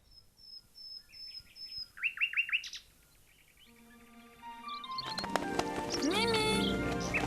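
A small pet bird chirps in quick, bright twittering bursts, then music and voices take over.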